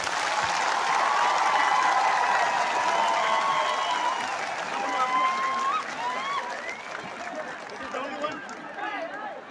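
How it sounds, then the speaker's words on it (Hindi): Audience applause from a crowd at a live event, loud and sustained clapping across the whole stretch, tapering slightly toward the end with scattered crowd noise. "सबसे बड़ा ताली आपको होना चाहिए।"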